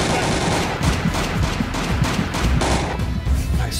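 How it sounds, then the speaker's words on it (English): Rapid gunfire from a stealth assassination video game set in the Cold War era fills the clip, loud, dense bursts of shots running continuously for a few seconds with no speech. "Nice shot, Alekhine"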